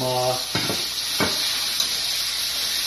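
Beef for a stir fry cooks in a hot pan with a loud, steady hiss of sizzling, broken early by a couple of brief utensil scrapes, close by, with no voices.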